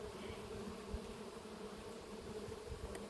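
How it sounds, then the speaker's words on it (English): A steady, humming drone of many honeybees buzzing together at a hive entrance as they return, close and continuous, with faint shuffling underneath and no voices. "That hectic noise at the front of the colony is all the bees coming back in off that floor."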